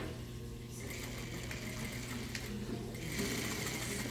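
A sewing machine stitches a fabric face mask at a half-inch seam, its steady rapid mechanical hum running continuously at moderate volume and picking up slightly near the end.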